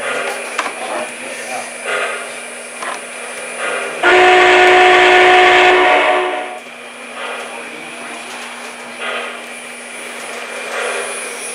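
MTH HO scale Norfolk & Western #611 model steam locomotive running on a layout at Rensselaer Polytechnic Institute, a steady motor whir with a loud tonal whistle blast lasting about two seconds in the middle, over room noise.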